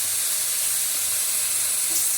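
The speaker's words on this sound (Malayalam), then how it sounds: "പുരട്ടി വെച്ച മീൻ എണ്ണ തിളച്ചതിന് ശേഷം ഇട്ട് കൊടുക്കുക" Marinated vala (ribbonfish) coated with salt and pepper powder fries in boiling oil, giving a loud, steady, close sizzle and hiss that holds unbroken throughout.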